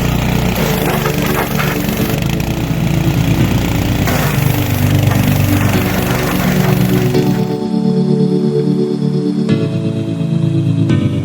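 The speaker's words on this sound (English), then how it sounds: "First step, you want to push the button to on for the pressure washer." A pressure washer's engine runs at a steady loud drone, close by, with its pitch and tone shifting partway through as the load changes.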